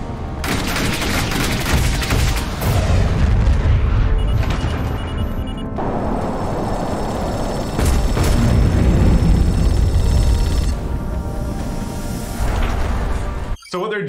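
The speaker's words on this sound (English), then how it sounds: "PDC rounds to start Gatling gunning." Gatling-style point defense cannons from the video game The Expanse: A Telltale Series fire in a loud, sustained barrage of rapid shots layered with heavy booms, with voices partly buried underneath.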